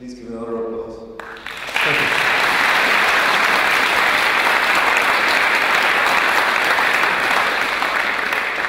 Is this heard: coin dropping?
no